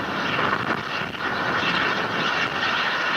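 An H-IIA rocket in flight a minute after launch gives a steady, distant broadband roar with slight swells in loudness.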